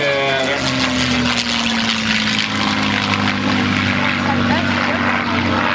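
A Merlin-engined P-51 propeller plane drones steadily overhead at an air show with a smooth, continuous hum and slowly shifting pitch as it passes, loud and sustained.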